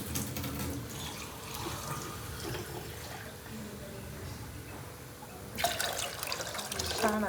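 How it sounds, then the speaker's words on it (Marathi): Water is poured into a pan of fried mustard seeds, cut green chillies, garlic and cumin, about four glasses' worth for a shengolya curry, giving a steady splashing pour with a louder burst of splashing near the end. "यात खूप सारं पाणी ॲड करायचं आपण।"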